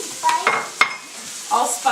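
Apples sauté in butter with cinnamon, cloves, nutmeg and allspice, a soft sizzle broken by several short stirring scrapes and one sharp clack of a utensil against the pan.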